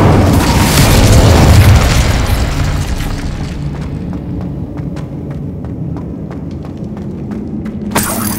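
A loud fiery spell blast booms out in Hogwarts Legacy, a heavy roar that decays into a crackling rumble with sharp snaps, then a second burst hits near the end.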